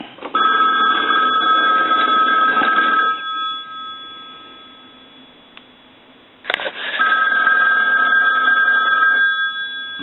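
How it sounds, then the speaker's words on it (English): A Western Electric single-slot rotary payphone bell rings loudly in two long bursts, a clattering metallic ring separated by a few seconds of near silence. "I'll go ahead and plug it back in and I'll ring it."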